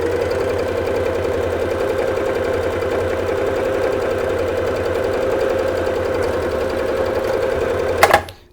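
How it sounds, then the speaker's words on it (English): A Juki HZL-27Z sewing machine runs flat out in one long, steady, loud mechanical whir with a fast stitching rattle, then stops abruptly near the end with a brief clatter. "We're going to see how fast this machine is."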